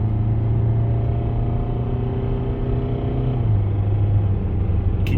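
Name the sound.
knocking worn car engine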